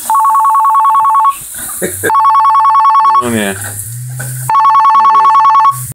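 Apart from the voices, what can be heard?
telephone ringing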